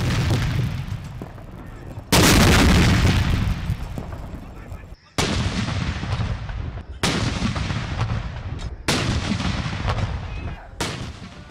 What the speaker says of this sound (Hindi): वफाकी दारुल हुकूमत में 31 और सूबाई दारुल हुकूमतों में 21 तोपों की सलामी।